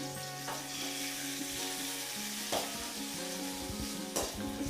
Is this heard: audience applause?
no